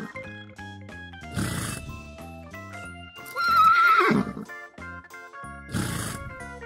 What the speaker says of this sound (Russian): Лошадь ржет.